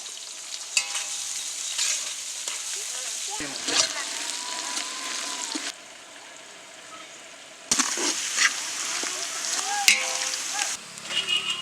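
Onions frying in oil until golden for a Hyderabad chicken dum biryani crackle and hiss close by while a spoon clinks and stirs, fading once partway through before the sizzle returns.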